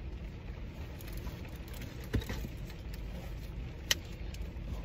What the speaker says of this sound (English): Because these cars is riding by.